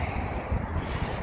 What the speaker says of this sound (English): Oh man, it is windy out here.